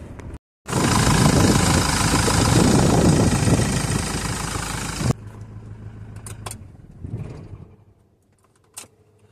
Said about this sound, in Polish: już odpala, ale ciężko odpala